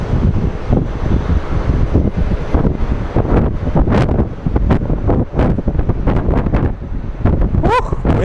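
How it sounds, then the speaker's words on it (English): Strong gusty wind buffeting the microphone at Sky Harbor International Airport, with a continuous rumbling roar broken by sharp bursts and short noisy thumps, loud and close throughout. "Windy, windy today."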